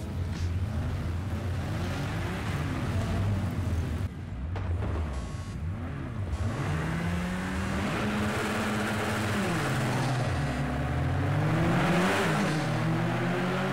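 GT race cars starting a race on the Nordschleife in Project CARS 2, several engines roaring and revving together as the field pulls away, with overlapping pitch sweeps and a loud, dense drone.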